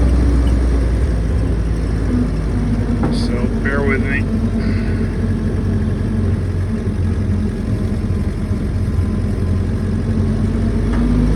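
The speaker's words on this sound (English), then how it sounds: "you're gonna have to just enjoy the sound of the engine for a minute" A Jeep engine drones steadily while driving around a turn, a constant low rumble throughout, with someone talking briefly over it.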